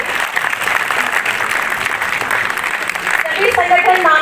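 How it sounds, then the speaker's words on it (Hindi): Thunderous applause from a crowd at a Karni Sena rally in Gurugram, a dense continuous roar of clapping throughout, with voices rising over it near the end. "तालियों की गड़गड़ाहट रुकनी नहीं चाहिए।"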